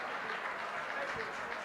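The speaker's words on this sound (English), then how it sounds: "big round of applause" Audience applause at an award ceremony and book launch, a steady wash of many hands clapping at moderate volume throughout, with voices mixed in underneath.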